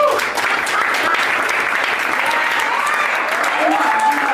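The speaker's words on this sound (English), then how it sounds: "round of applause" Steady, dense applause from a room of people at a team meeting, clapping for volunteers, sustained and loud throughout with some cheering mixed in.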